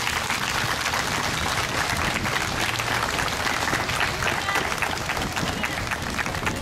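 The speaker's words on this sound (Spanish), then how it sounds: "Yo creo que se merecen un aplauso más fuerte todavía." A crowd claps and applauds for the decorated floats of a neighbourhood patron-saint festival parade in San Luis Potosí, a loud, dense, steady wash of hands with crowd noise throughout.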